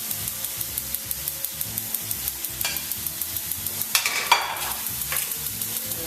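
Pancetta frying in a pan on a gas stove, with a steady soft sizzle and regular low stirring knocks, plus a couple of brief louder scrapes near the end.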